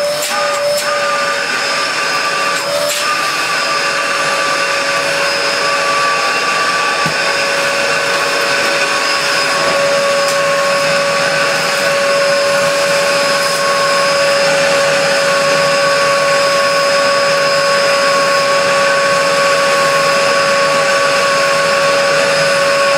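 A 1996 Dyson DC02 vacuum cleaner with its standard floor tool runs steadily and loudly, a constant motor roar topped by a fixed high whine, with no talking over it.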